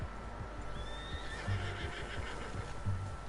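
A horse in the video game Red Dead Redemption 2 whinnies in a high, wavering call, with soft hoof clops and a low rumbling background; no voices.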